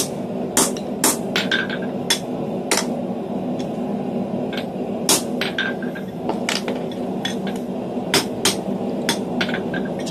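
A forging punch is dressed and straightened with a hammer while a fullered door handle is being forged: a run of sharp metallic blows in irregular bursts over a steady background hum, close and loud, with no talk.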